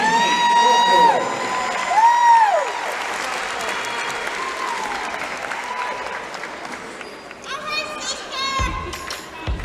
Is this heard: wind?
no